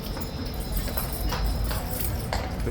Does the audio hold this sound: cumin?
no